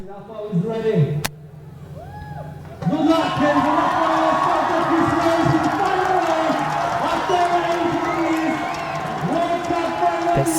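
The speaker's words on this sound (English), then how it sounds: "spectators are cheering" Spectators cheer along the course of a World Cup orienteering sprint final in Wrocław, Poland: a loud, continuous crowd roar swells after a short quieter opening, mixed with shouts and voices throughout.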